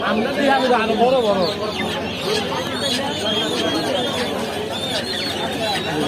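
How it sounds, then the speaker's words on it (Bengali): Farm-raised broiler chicks cheep in a crowd at the Putia bazaar in Shibpur, Narsingdi. The thin, dense chirping carries on nonstop under loud background chatter, with people talking nearby. "ফার্মি মুরগির বাচ্চা এগুলো।"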